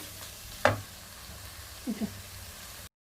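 Cooked rice being stirred into wilted spinach in a pan for palak rice, a quiet frying sizzle with a sharp knock of a spoon and a couple of soft scraping stirs, no talk.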